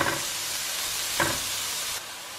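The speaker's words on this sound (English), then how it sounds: "So I've got coconut oil melted in a frying pan. We'll add in all the zucchini." Steady sizzle of zucchini frying in coconut oil, a constant close hiss with a brief stir midway, no voices.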